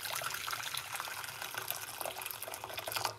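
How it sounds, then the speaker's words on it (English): Hot water poured into a pot sitting on a kitchen cooker, a steady close splashing and trickling stream that runs throughout with no talking. "we're going to pour some hot water"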